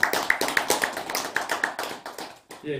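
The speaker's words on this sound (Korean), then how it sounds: "박수 한번 보내도록 하겠습니다" Rhythmic unison clapping from an audience at a Buddhist monastic graduate school, honoring graduating monks' thesis presentations: sharp, evenly spaced claps close by, slowing and fading near the end.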